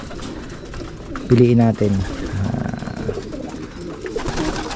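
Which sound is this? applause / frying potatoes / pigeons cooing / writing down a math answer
pigeons cooing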